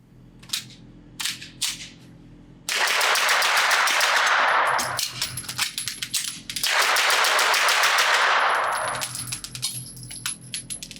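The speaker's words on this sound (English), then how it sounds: "I'm shooting it just as fast as some of the higher end guns like the Infinities that I have recently shot" Rapid bursts of pistol shots from a Staccato P 2011 with threaded barrel fired at a range, loud and close, several quick strings of shots with short pauses between them.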